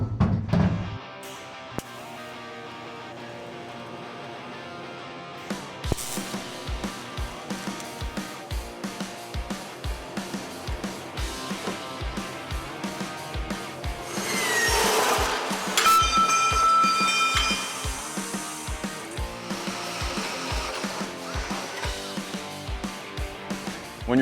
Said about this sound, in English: So grab the welder and get this thing tacked up.